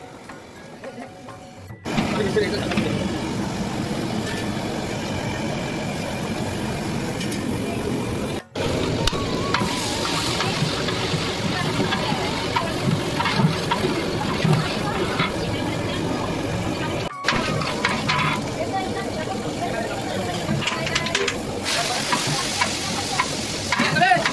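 Dal tadka sizzles loudly as it is tempered for a large festival meal, a dense steady frying hiss with stirring scrapes, interrupted by a few abrupt cuts.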